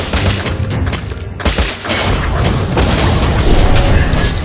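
Dense, loud blasts and rapid bursts like gunfire boom continuously from a mobile video game played on an emulator, with a brief dip near the middle before the barrage resumes.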